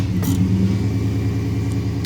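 A 1995 Chevy Silverado truck with an LT1 V8 idling, a steady deep throbbing rumble with an even low pulse, close and constant.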